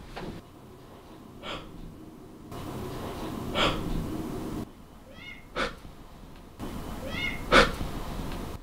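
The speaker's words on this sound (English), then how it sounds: "I swear I just heard a kitty cat meowing" A cat meows several times in a quiet house, with short, distinct cries spaced a few seconds apart that sound muffled and at some distance. Breathy rustling and shifting background noise run between the cries.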